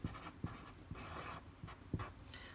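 Pen or pencil scratching out a trigonometry formula by hand on paper, close and fairly quiet, in short rhythmic bursts of strokes with small taps between them and no talking.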